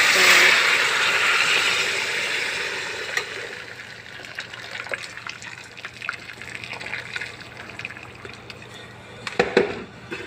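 Hot water is poured into a pot of cooking mutton, a loud, close gush lasting a few seconds that settles into softer splashing and bubbling, with light clatter of utensils near the end.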